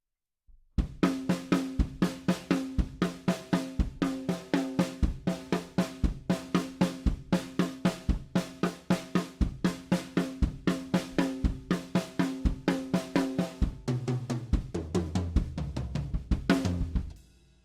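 A drum kit plays a steady linear pattern with the kick drum moved around between the other drums, giving an even stream of crisp strokes for about sixteen seconds. The kit is close and alone, and the playing ends in a low tom roll.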